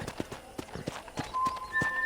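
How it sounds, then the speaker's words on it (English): Horse hooves in Red Dead Redemption, an even trotting clip-clop of hoofbeats up close, with faint tonal background sounds toward the end. "let's see if you can still ride a horse"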